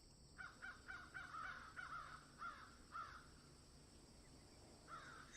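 Crows caw in a rapid series of harsh calls, several close together, then a pause before a few more, heard faintly over quiet background hum.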